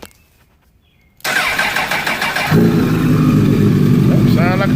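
A motorcycle engine cranks with a rapid rhythmic starter churn, then catches and settles into a loud, steady, close-up running rumble after near silence.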